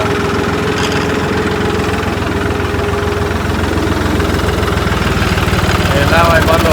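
A turbocharged John Deere 5210 tractor engine running at a steady, loud diesel idle with a rhythmic throb, with people talking over it; the sound runs on without clearly cutting out.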